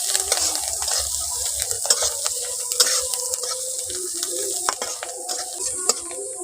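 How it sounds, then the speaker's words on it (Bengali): Chopped onion frying in oil in a pan for a fish-roe and potato dish, a steady close sizzle with occasional stirring scrapes and clicks, no talking. "ওই তেলের মধ্যে পেঁয়াজ কুচি দিয়ে দিচ্ছি। পেঁয়াজটাকে একটু বাদামি করে ভেজে নেব।"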